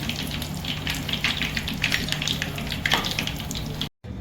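Pizza cutlets deep frying in hot oil, a continuous bubbling sizzle with crackling pops scattered across the clip, close and fairly loud, cutting off abruptly near the end.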